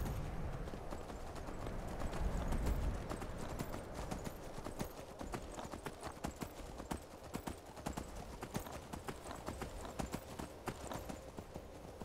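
Steady clip-clop of horse hooves at a walking pace in the video game Skyrim, close and continuous, with a low rumbling background.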